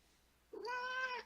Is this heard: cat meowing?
yes